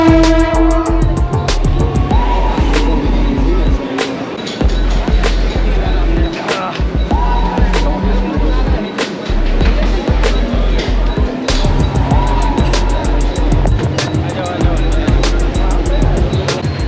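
Riding a first-class coach of a Mumbai commuter train: loud rhythmic clacking over rail joints, heavy rumbling, and sharp metallic knocks repeating throughout, with a brief rising tone heard twice.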